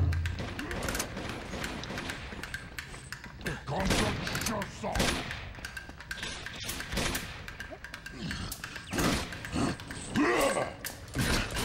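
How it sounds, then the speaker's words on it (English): Gunfire rings out in the action game Uncharted 2, with repeated sharp shotgun-like blasts and heavy thumps scattered through a busy firefight, loud and close, mixed with game noise and mechanical clatter. "I'm about to just go get this shotgun and go to work"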